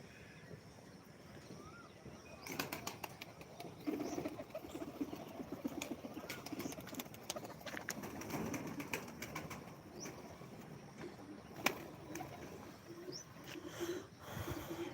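An Alto pigeon takes off, its wings flapping in a soft fluttering burst among other pigeons cooing and faint bird calls outdoors, moderately quiet.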